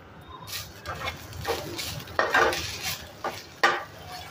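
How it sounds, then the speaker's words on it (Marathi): Whole spices and coriander dry-roasting in a pan, with light scraping and clinking stir strokes and a faint crackle underneath, close by and fairly quiet. "आपण कोथिंबीर घेतलेली आहे ना, ती पण ह्याच्यामध्येच घ्यायची भाजून"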